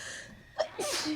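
A single sudden sneeze bursts out near and loud, with a short gasping intake followed by a broad, hissing expulsion, set against a quiet room.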